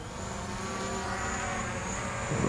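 A camera drone takes off and flies, a steady, close, loud whine of buzzing rotors with constant tonal hum that holds level throughout and swells slightly at the end.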